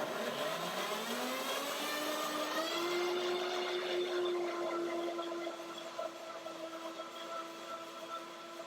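A Revo blender runs steadily, its motor whir rising in pitch over the first few seconds and then holding a sustained, fairly loud drone that eases slightly toward the end, with no voices.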